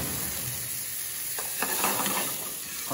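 Steak searing in a hot pan after being tossed in olive oil, a steady close sizzle and crackle with occasional stirring scrapes, no talking.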